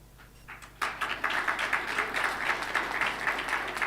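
A crowd applauds at a judges' and magistrates' association anniversary ceremony, honoring High Court justices; a brief quiet lead-in gives way to steady, dense clapping that holds at an even level to the end.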